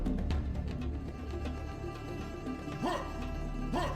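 A dog in the sci-fi shooter game Serious Sam HD: The Second Encounter barks and yips several times over a steady background of game music.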